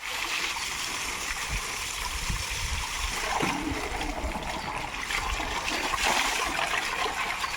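Water splashes and pours continuously close by, with irregular sloshing and dribbling as someone bathes at a village temple festival.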